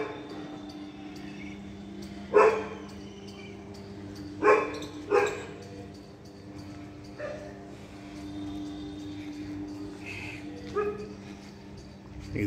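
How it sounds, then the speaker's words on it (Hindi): Street dogs bark outside a home garden, a few sharp distant barks spaced seconds apart over a steady background hum. "मेरी गली में क्या है, कुत्ते बहुत हैं जो सारे दिन भौंकते रहते हैं।"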